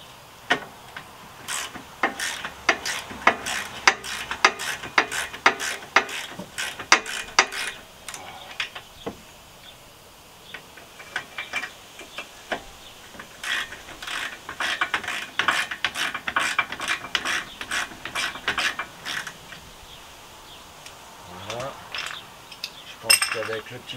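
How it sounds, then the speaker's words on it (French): A ratchet wrench tightens and then loosens a fastener, giving close, crisp bursts of rapid clicking in uneven runs, separated by short pauses and light metallic clinks. "on va pouvoir enlever ça avec maintenant une clé à cliquer"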